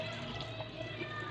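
Water pours briefly into a cooking pot while beef nalli nihari is being prepared, a soft, close, continuous trickle and splash.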